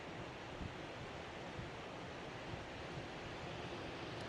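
Ocean waves heard near the shore as a steady, broad wash of surf with a faint wind-like hiss, continuous and fairly quiet for about four seconds, with no voices.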